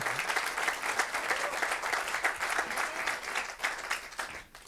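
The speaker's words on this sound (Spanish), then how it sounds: "denle un aplauso al Señor" A congregation claps steadily at a church service, a dense, continuous wash of applause that stays strong throughout and tapers slightly at the very end.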